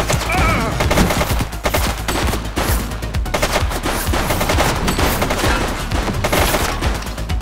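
Gang leader in the video game The Precinct firing sustained gunfire, a loud, continuous barrage of rapid automatic shots overlapping with one another throughout.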